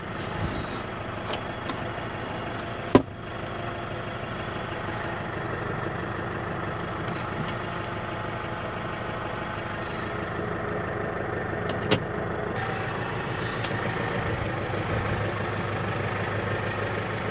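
A steady low engine idling throughout with a couple of sharp clunks, no voices, moderately close and even in level.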